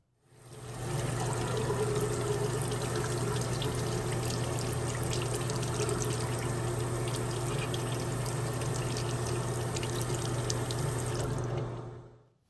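Tap water runs steadily at a kitchen sink, pouring over a waterproof Cricut-made sticker label, a loud continuous rushing stream that starts abruptly and stops near the end with no talking.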